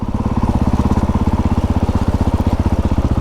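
A dirt bike engine idles close by with a loud, fast, pulsing chug that wavers slightly in rhythm, running on its own without talk.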